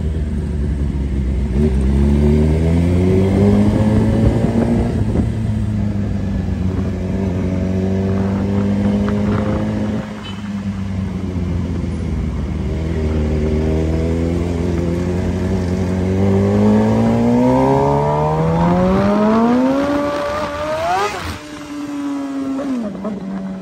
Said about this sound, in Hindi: आपको भरपूर बाइक का साउंड जो है वो सुनाई देगा